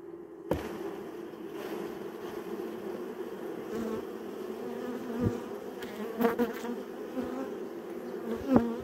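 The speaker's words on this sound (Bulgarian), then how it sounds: "Това, което аз правя в момента с изтръскване на пчелите" Honeybees buzz in a dense steady drone while being shaken off combs during a spring inspection of a top bar hive, with soft knocks and thuds of the frames breaking through the hum.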